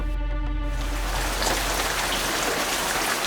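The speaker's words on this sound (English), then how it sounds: "It's still raining." Steady pouring rain in the Quebec wilderness, a dense continuous hiss of drops falling on surfaces, loud and close, with a brief tonal hum at the very start before the rain takes over alone.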